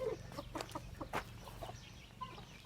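An Indian (Hint) rooster inside a metal treadmill cage gives faint, soft clucks and rustles, heard quietly at close range with no talking.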